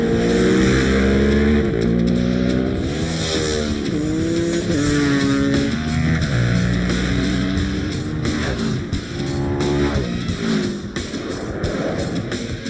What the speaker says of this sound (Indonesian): pokoknya mereka bersedia balapan di tengah jalanan Bangkok